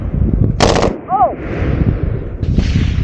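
Gunfire at a fast-paced shooting match: one short, loud burst of rapid shots rings out near the start, followed by a brief high squeak and then steady background noise.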